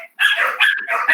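Dogs bark loudly and close by, with quick repeated yips and yelps running together over about a second, heard through an online class connection.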